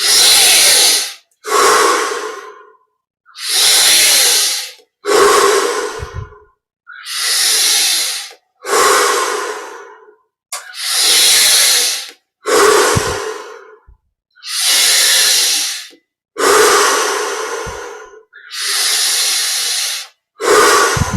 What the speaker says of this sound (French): On augmente maintenant l'amplitude des respirations.